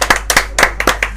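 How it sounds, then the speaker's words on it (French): A small audience claps for Nico, the host, during a live radio show broadcast from his place: a handful of sharp, distinct claps in quick irregular succession, close and fairly loud, with a low steady hum underneath. "que l'on peut applaudir Nico pour nous accueillir"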